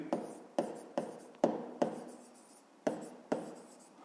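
Pen strokes on paper while a fifth-grade decimal multiplication exercise is written out, a series of about eight short scratchy taps and strokes at irregular intervals, close and quiet, with no talking.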